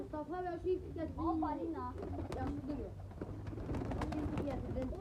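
Pigeons, mostly young birds, coo in soft repeated rolling calls close by, with people talking over and between them.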